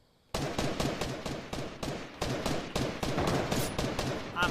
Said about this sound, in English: I'm literally shooting at the guy.